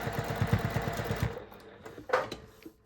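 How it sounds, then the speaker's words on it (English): A sewing machine top stitches through a couple of layers of wadding on a scrap purse, running in a fast, even burst of needle pulses for just over a second, then stopping, followed by soft handling rustles. "I'm just top stitching this all the way around"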